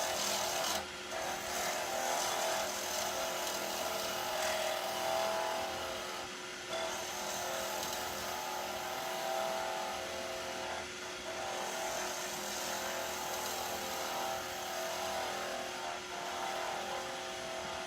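A wood lathe spins a pen blank while a skew chisel trims it down toward the bushings, giving a steady, continuous whirring hiss with a faint scraping edge that holds at an even level throughout.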